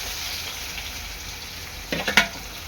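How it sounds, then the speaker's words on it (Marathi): Spring onion whites sautéing with browned garlic in a pan, a steady close sizzle throughout, ending with a few quick scraping stirs near the end. "यामध्ये मी टाकणार आहे कांद्याच्या पातीतला कांदा, तो सुद्धा चांगला परतून घ्यायचा आहे।"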